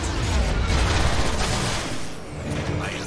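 Gunfire in the Transformers: War for Cybertron video game, a dense loud fusillade of shots and booms running continuously with a heavy low rumble.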